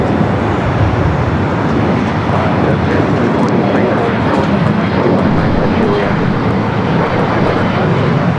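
A year-old airliner rumbles loudly and continuously on approach to land at Los Angeles LAX, a dense steady jet roar heard up close with talk over it.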